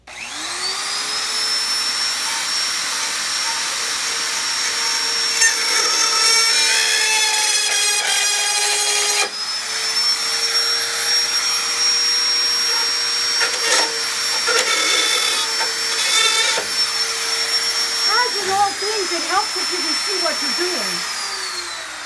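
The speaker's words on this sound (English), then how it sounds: "I have used it for a heat gun, but not for stuff so thick. This is PVC" A heat gun warming thick PVC blows with a continuous, loud, whining hiss. The motor tone cuts out briefly near the middle, then restarts and holds steady, with faint occasional voices under it.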